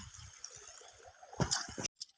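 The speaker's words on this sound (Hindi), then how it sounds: "ये अब ये चलत है बोर के पानी। ये दीदी मन हाथ धोवत है।" Water from a borewell runs and splashes in short bursts near a paddy field as women rinse their hands, with brief clinks and trickles close by and quiet gaps between.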